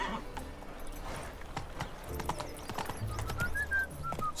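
Horse hooves clip-clopping at a gallop in The Witcher 3 open-world game, a steady rapid rhythm of hoofbeats under ambient game sound, with a short whinny and a few brief tonal game sounds near the end.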